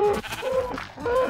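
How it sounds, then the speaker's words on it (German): Sheep in the Minecraft video game bleat several times in quick succession, clear wavering cries that sound close and stand alone without talk. "Ach, Schafe, genau, Schafe futtern ja jetzt auch."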